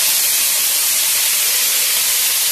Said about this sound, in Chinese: 翻炒两三秒钟，然后倒一点热开水